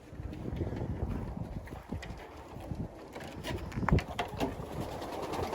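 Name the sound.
pigeons cooing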